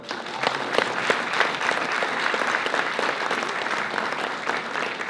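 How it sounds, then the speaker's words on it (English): Steady applause from an audience at a leadership awards event, many hands clapping in an even, continuous wash for about five seconds, moderately loud and without talk. "if you want to give them a round of applause, that would be awesome"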